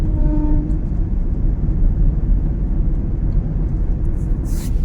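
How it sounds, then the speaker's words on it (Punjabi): A passing goods train carrying tanks and artillery makes a steady, loud, close rumble with continuous low roar and no breaks, heard alone throughout. "ਟ੍ਰੇਨ ਆ ਗਈ ਦੂਜੀ ਹੈ ਹਨਾ ਮਾਲ ਗੱਡੀ"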